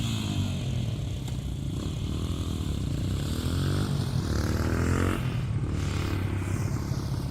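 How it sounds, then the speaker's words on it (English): A motorcycle engine drones on a street, loud and steady for several seconds with a low, throbbing rumble and a pitch that rises and falls as it passes near a van. No one speaks. "It was a guy on a motorcycle almost got hit by a guy in a van."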